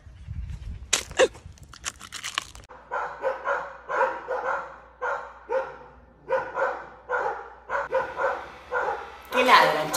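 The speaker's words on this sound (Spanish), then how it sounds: "¿Qué ladran, che?" Dogs bark in a steady run of loud, evenly spaced barks close by, after a short clatter of noise at the start, in an animated comedy scene.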